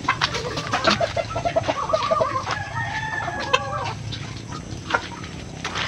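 Farm chickens clucking and calling nearby, with a rooster crowing midway; the bird calls repeat in busy overlapping bursts over a low background murmur.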